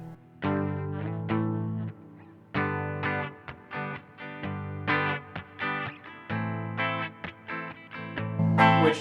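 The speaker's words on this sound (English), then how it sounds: "So yeah, there's just your reverb and delay." An electric guitar played through reverb and delay pedals, plucked notes and chords ringing out with sustained, washy tails, close and moderately loud, with no voices.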